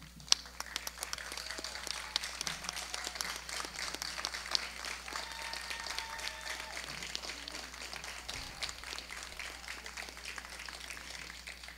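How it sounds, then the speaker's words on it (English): Parents stand and applaud the teachers at a high school graduation, scattered, fairly faint clapping that continues steadily for several seconds amid a large room's background hum. "please stand and show by applause your appreciation for the effort made by our teachers."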